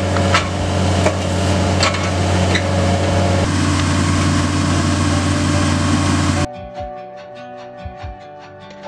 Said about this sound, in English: We've got 27 of these holes to get drilled, and then we can move on.